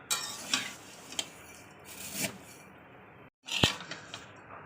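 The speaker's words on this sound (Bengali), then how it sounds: "কাঁচা সিমাইটা এটা পুরো দিয়ে দিয়েছি এটাকে আবার ওইরকমভাবে পুরোপারে ভেজে নেবো ভালো করে" Raw vermicelli fries in a little oil in a pan, giving a faint sizzle with intermittent scraping stirs and light pan clinks, close up, broken by a brief silence and a sharper clink near the end.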